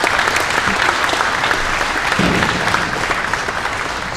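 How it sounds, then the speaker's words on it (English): Audience applause at a community conversation event, a dense, even roar of many people clapping at once, sustained at a steady level for the whole stretch with no voices standing out. "give yourselves a round of applause"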